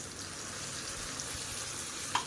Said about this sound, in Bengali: এবার পেঁয়াজটাকে বেশ লাল লাল করে তেলের মধ্যে ভাজা করে নেব